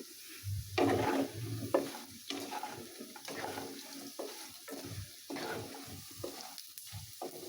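Food fries in a pan on a windy home stove, heard as a quiet, soft sizzle broken by repeated scraping stirs in an uneven rhythm.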